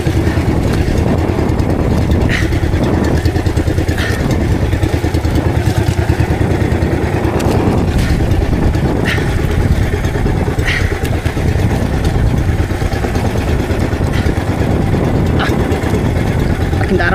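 Boat engine running steadily at sea on the Pacific off Samar, a continuous loud mid-pitched drone with wind and water wash, plus faint intermittent knocks, without pause throughout.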